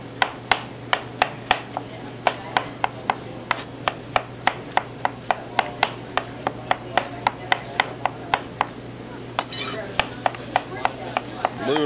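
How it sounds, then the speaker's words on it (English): A knife rough-chops mushroom stems on a cutting board in a steady series of about thirty crisp, close knocks. Near the end, the strokes come in a quicker, rougher burst. "we'll just rough chop these"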